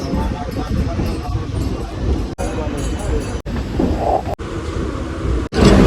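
A local commuter train arrives at a platform, a loud rumbling, rattling rush with sharp clunks and brief dropouts, while people talk nearby.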